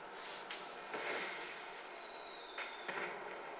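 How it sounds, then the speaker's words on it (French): A fireworks launch in GTA V whistles with a descending high-pitched tone, followed by soft pops and crackles, fairly faint with no voices. "donc ça c'est des feux d'artifice"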